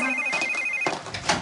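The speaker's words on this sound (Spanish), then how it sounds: "Hay teléfono." A telephone rings with a steady electronic tone, one sustained burst followed by a second starting partway through, loud and close with no talk over it.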